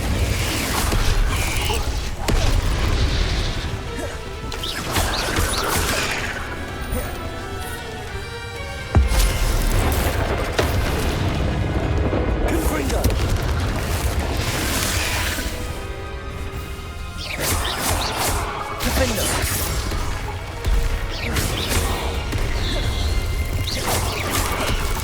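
Confringo fire-explosion spell cast in the Hogwarts Legacy video game: loud, dense blasts and crashing whooshes repeat through continuous combat noise and music, with a sharp burst standing out near the middle.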